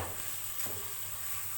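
Onions frying in oil in a karahi pan make a steady, close hiss and sizzle, with a brief stir-like scrape near the middle.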